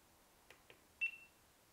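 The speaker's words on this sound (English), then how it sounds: "there's still a little beep." A short, faint electronic beep from a GoPro Hero 9 Black in photo mode, a steady high tone preceded by two tiny clicks, in an otherwise quiet setting.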